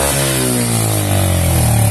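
An old oil-burning motorcycle engine starting and running, a loud steady mid-pitched drone with a slight rise in pitch, cutting off abruptly at the end.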